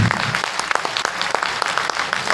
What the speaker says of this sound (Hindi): एक बार जोरदार तालियां बजा सकते हैं।